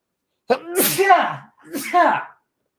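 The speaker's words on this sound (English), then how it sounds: "I feel a sneeze coming on." A man lets out two close sneezes in a row, loud and near, each with a sharp breathy build and burst, in a quiet indoor setting.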